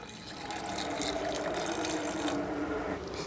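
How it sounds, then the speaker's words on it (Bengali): Water being poured into a pot of soaked chickpeas with salt, baking soda and bay leaves, a steady, fairly close splashing stream that runs for a few seconds. "অল্প করে পরিমাণ মতন জল দিয়ে দেবো।"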